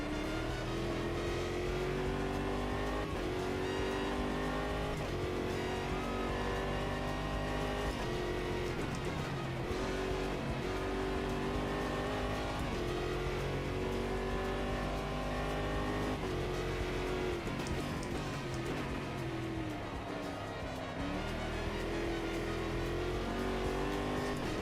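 Race car engine in the Automobilista sim racing game, loud and continuous, with the engine note climbing and dropping through repeated gear shifts and hints of tire squeal, heard alone.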